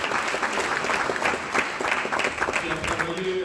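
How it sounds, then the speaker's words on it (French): A crowd applauds steadily at a Cameroonian chiefdoms parade event in Paris, with dense, even clapping filling the whole stretch and a voice briefly emerging near the end. "Est-ce qu'on peut l'applaudir?"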